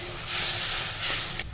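Water splashed into white mustard paste in a hot pan, giving a steady broad hiss that swells and lingers for over a second with a brief crackling burst near the end, close and fairly loud with no talking.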